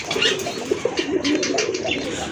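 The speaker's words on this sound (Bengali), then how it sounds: "এক জোড়া দেশি কবুতর, পিওর দেশি কবুতর।" A pair of native pigeons coo close by in a soft, repeated throaty rhythm, with faint rustling around them and no voices.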